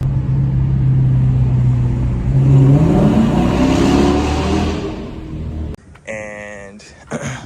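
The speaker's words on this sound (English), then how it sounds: "I'll insert some audio clips of me getting on the gas a little bit on straightaways so you can hear what it sounds like from" Inside a Dodge Challenger R/T fitted with a Borla exhaust, the engine drones loudly and climbs steadily in pitch under acceleration, then drops away as a voice begins speaking.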